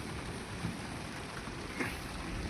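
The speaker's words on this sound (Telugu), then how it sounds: "ఇక వర్షం పడుతుంది, మొత్తం ఉరిగిపోయి వర్షం పడుతుంది అనమాట." Heavy rain pours down in a steady, unbroken hiss, loud and close throughout, with no distinct thunder rising above it.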